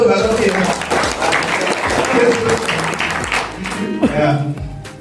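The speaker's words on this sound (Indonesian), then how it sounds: "Tepuk tangan dulu untuk Mbak Novi." Applause from an audience at a business leadership seminar fills the room, loud and sustained, with a host's voice over it and a brief sliding whistle-like tone near the end.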